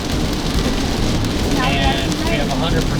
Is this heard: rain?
yes